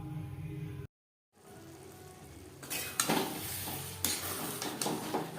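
A yellow peas curry with mutton fat cooks on a high-to-medium gas flame, giving a steady sizzle that briefly cuts out, then returns louder with repeated scraping stirs of a utensil against the pan.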